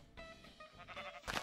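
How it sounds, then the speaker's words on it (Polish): A single sheep in a 2D Minecraft survival game on an island bleats a few times, short wavering calls at low volume, ending with a brief louder burst of noise. "Słuchajcie, a owca tu jest"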